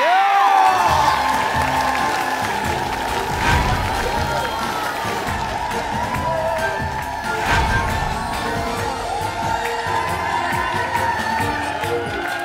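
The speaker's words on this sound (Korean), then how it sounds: "여러분들의 큰 박수가 필요합니다." Television studio audience on a Korean variety show clapping and cheering for a performing trio, loud and sustained, with shouts, whoops and music-like tones over the crowd.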